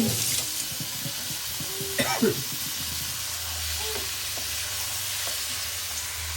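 Goat head curry coated with turmeric and garlic paste sizzles in a pan as it gets stirred, a steady frying hiss with scraping clanks of the spoon early on, while a person talks over it.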